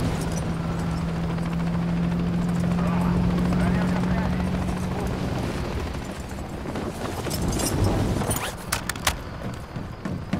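Helicopters in the Call of Duty Modern Warfare III video game, a steady loud rotor drone with a low hum through the first half and scattered impacts and radio chatter later.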